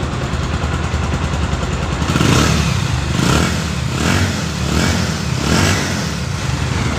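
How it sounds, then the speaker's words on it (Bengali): A 2019 Bajaj Pulsar motorcycle engine runs steadily with a deep thumping exhaust, then revs up and drops back in four rhythmic throttle blips, loud and close with no talking. "বাইকে যে দুমদুম সাউন্ডটা আছে পালসারে, সেটাও এখনও আছে"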